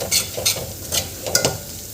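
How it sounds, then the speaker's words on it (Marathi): Masala paste with goda masala sizzles in an oiled pan while a spoon stirs it in quick, repeated scraping strokes, close and fairly loud. "हे याला 1 मिनिट परतून घ्यायचं मसाले"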